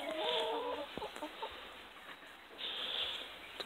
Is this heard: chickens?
yes